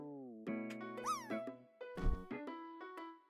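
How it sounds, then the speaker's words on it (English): A tuxedo cat meows several times in clear, close, drawn-out calls with rising and falling pitch, some separated by short pauses, with a few soft background knocks and little other sound. "this is my handsome man Mulder, my tuxedo cat."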